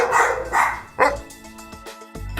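Dogs barking in short, loud, close bursts, several sharp yaps spread across a couple of seconds over a steady background hum, with no voices.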